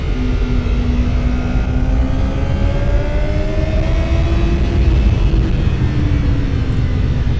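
A 2025 Honda CBR1000RR-R Fireblade SP at speed on a racetrack, its engine droning loud and continuous with steady shifting tones and heavy wind rush throughout.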